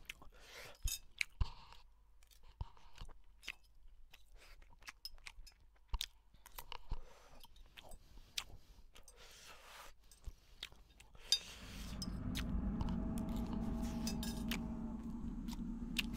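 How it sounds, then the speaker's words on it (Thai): Someone chews a meal of rice and chicken close to the mic, with soft, irregular crunching and mouth clicks, then a steadier low rumble of background noise; no talking. "นี่ผมกินข้าวอยู่นะพี่ใกล้หมดแล้วข้าวเนี่ยหมดแล้ว"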